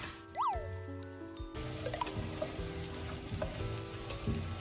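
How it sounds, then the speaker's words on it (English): Sauce bubbling and sizzling in a pan close by, with a steady hiss and occasional scraping stirs. A brief whistle-like chirp comes near the start. "Mix, and then when it starts boiling, you can turn it off and it's ready."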